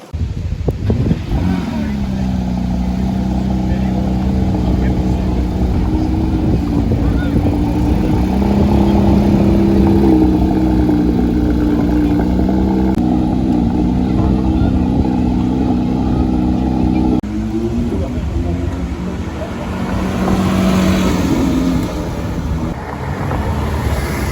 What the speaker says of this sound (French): il y a 4 Porsche qui sont partis